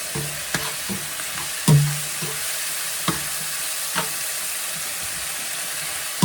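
Garlic and vegetables frying in a pot for creamy potato soup, a steady sizzle and hiss with occasional utensil knocks and scrapes as the mixture gets stirred.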